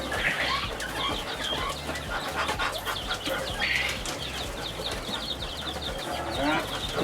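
Brahma chickens cluck and chirp close by in a coop, giving a busy, overlapping chorus of short calls with some rustling, and a person speaks briefly among them.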